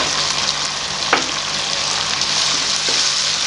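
Chopped tomatoes and masala sizzle steadily in a hot pan while they are fried for an arbi leaf salan, with the dense hiss broken by brief scrapes of a spoon being stirred through, close and continuous with no talk.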